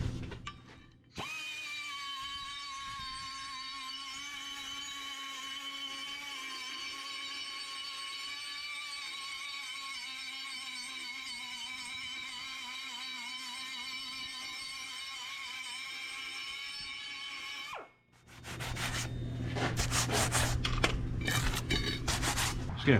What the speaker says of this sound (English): I'm actually going to take a die grinder and clean it.